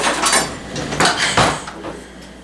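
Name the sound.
spatula scraping caramel bars from baking pan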